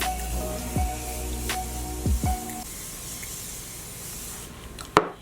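A few short spritzes of a Morphe makeup setting spray bottle hiss close by, separated by pauses, with a final sharp click at the end.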